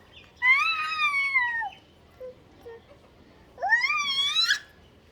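A cat gives two long drawn-out meows, close and clear, separated by a pause with a couple of faint short sounds in between.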